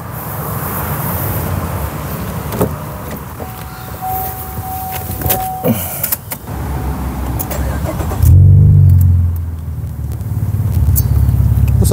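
Opel Insignia OPC V6 turbo in Stage 1 tune at 300 hp: after several seconds of quiet background noise, the engine cranks and fires close by, then settles into a deep, steady exhaust rumble at idle.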